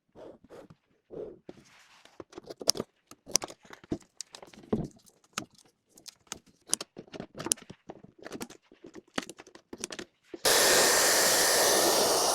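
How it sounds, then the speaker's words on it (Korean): Scattered clicks and clattering knocks give way to a hair dryer switching on and blowing loudly and steadily for the final couple of seconds, while an IKEA Duktig toy kitchen is being refurbished. "지금 이 드라이기로 다림질을 해주는 생각 정도로 해야"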